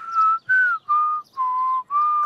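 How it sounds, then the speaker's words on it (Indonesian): A cartoon character whistles a steady series of five sustained notes, each held briefly with short pauses between, clear and close. "Bersiul membutuhkan banyak latihan."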